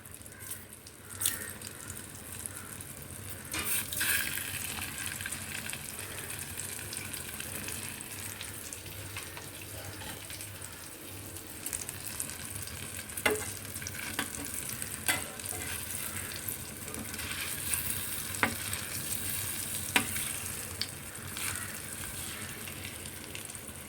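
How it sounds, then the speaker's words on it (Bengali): Halved boiled eggs fry in oil with a quiet, steady sizzle and occasional sharp crackles and taps from the pan, with no talking. "ডিমগুলোকে এরকম করে লাইট করে একটুখানি ভেজে নেবো"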